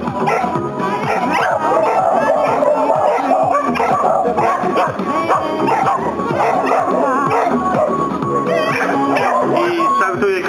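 Dogs at an outdoor agility relay picnic bark and yip constantly, several animals close by and loud, with whimpers mixed in and voices talking underneath.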